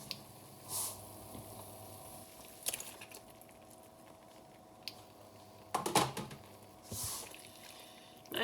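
Chicken pieces going into vindaloo sauce in a pan on a hob at medium heat, a low background sizzle broken by scattered soft squelches and clattering stirring noises.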